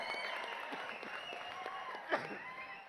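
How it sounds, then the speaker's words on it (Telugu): An audience at a film promotional fan event in Warangal claps in a steady burst of applause that carries on through the whole short stretch, moderately loud, with no voice over it. "క్లాప్స్ కొట్టండి ఒకసారి"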